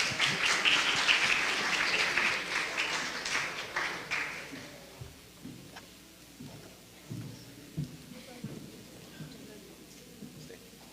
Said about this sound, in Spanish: Un aplauso, por favor, para la doctora Cintia.